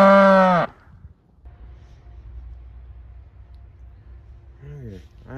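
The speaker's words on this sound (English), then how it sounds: "I had to go shoo the cows away." Cattle moo on a farm: one loud, close, drawn-out low call opens, then quiet outdoor ambience, and a second moo rises near the end.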